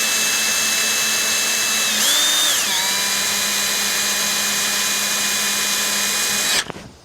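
A power drill whines steadily at high speed, its pitch dipping briefly as the bit pierces thick fiberglass on a Wingamm Oasi 540 RV, then running on before cutting off abruptly near the end.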